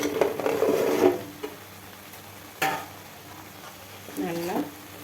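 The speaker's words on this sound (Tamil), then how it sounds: "முருங்கைக்காயில் இந்த கிரேவியெல்லாம் நல்லா படுற மாதிரி நல்லா கலந்து விட்டுக்கலாம்" Drumstick pieces are stirred into an oily, frying gravy in a pan, giving soft scraping and a light sizzle in a few short bursts, with a brief voice near the end.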